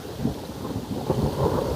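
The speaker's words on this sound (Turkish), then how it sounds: "Bakın şu an yağmurun şiddeti arttı." Heavy rain falls steadily through an oak forest near Güzelyurt in Cappadocia, with low rumbles of thunder rolling beneath the dense, continuous downpour; no voices are heard.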